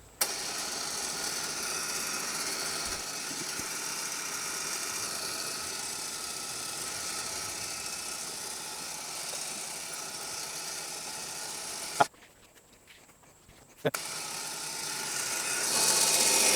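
CFMOTO ATV winch spooling in synthetic winch rope: a steady, loud electric motor whir running continuously, stopping briefly for about two seconds, then starting again and rising slightly, with no talking.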